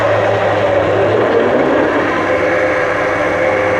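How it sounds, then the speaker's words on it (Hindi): A kitchen blender runs at full speed blending cucumber juice, a loud steady motor whir with a constant hum throughout and no talk. "तो ब्लेंडर को स्टार्ट करते हैं।"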